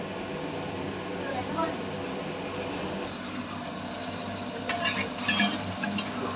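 Chicken for a Bengali red chicken curry fries and sizzles loudly in a pan, with water being added, a steady hiss and crackle throughout and a person talking over it.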